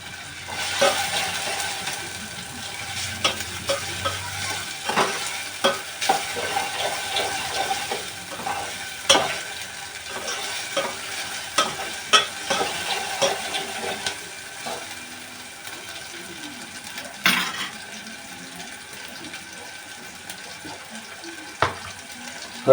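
Egg curry masala fries on a low flame, a soft steady sizzle broken by intermittent clinks and scrapes of stirring, close and moderately quiet.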